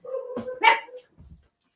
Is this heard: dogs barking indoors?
yes